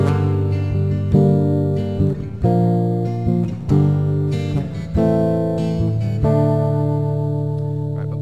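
Acoustic guitar chords are strummed in a steady rhythm, each chord ringing out clearly before the next change, close and unaccompanied by voices.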